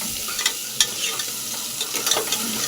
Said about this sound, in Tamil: இப்போ பெரிய வெங்காயமும் பச்சை மிளகா 2 சேர்த்து நல்லா வணக்கி விட்டுக்கலாங்க.